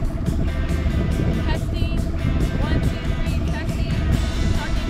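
Loud, steady boat engine drone running continuously with broad low rumble throughout, close by, with faint voices underneath.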